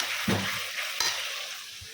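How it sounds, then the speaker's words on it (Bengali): Spice paste of ground coriander sizzling in a pan, a steady frying hiss with a couple of scraping stirs near the start and middle, close and moderately loud, no talking. "এটা ভাজা ভাজা হোক"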